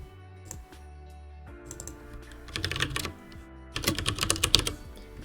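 Quick bursts of computer keyboard typing, light clicks clustered in short runs with pauses between them, close and moderately loud while the person builds a tile-based puzzle game.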